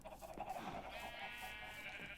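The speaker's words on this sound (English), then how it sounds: "Oh, it's the sheep farm." Sheep bleat at a sheep farm in Minecraft, a couple of wavering, nasal bleats close by and fairly quiet, with no talking.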